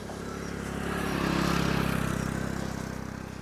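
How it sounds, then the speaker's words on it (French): A motorcycle engine hums nearby, swelling as it passes and then easing off, fairly quiet against a steady background. "Et ce que tu entends, c'est une moto qui passe à côté."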